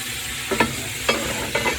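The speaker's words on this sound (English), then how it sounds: "I'll give them a stir to clear the grate bottom" Steam locomotive fire grate being stirred with a poker, three short scraping clanks spread over two seconds against a steady low rumble of the firebox.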